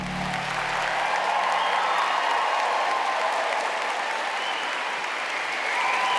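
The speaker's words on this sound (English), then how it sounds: "a massive round of applause for Tim Peake" Live audience at an Ask An Astronaut event applauds astronaut Tim Peake, a loud, steady wash of many hands clapping that holds throughout, with a brief low voice at the very start.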